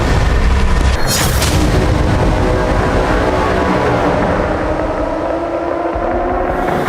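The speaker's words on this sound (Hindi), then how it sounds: "विस्फोटकों के जरिए टनल्स को तबाह किया जा रहा है" A heavy explosion as explosives destroy tunnels in Gaza rolls into a long, loud, deep rumble that carries on for several seconds with debris-like crackle underneath.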